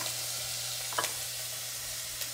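Chopped onion sizzles steadily in a hot pan for a vegetable risotto, a constant bright hiss with a brief stir or clink near the middle and another near the end.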